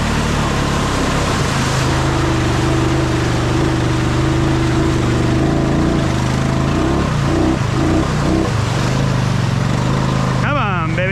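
A Honda Rubicon ATV on new, massive tires strains in first gear, its engine revving hard and loud up close with wavering pitch, while a voice talks over it near the end.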